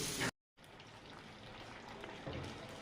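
New potatoes fry in a pan with a soft, even, rain-like sizzle. The sound cuts out briefly near the start and then continues steadily at a moderate level.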